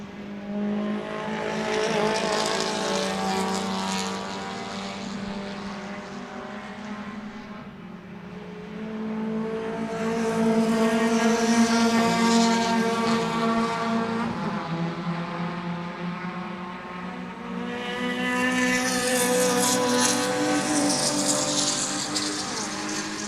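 Race cars at Sebring passing under a bridge, several engine roars with rising and falling pitch sweeping by in waves, loud and fairly close, one pass following another.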